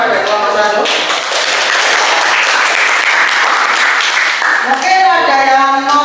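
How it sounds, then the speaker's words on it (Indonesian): A school class in a Islamic-education lesson gives a sustained round of applause for the first group, dense clapping filling the room for several seconds while voices speak over it at the start and end. "kita beri tepuk tangan pada kelompok 1"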